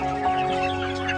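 Chickens cluck in a coop, soft overlapping clucks over a steady humming background.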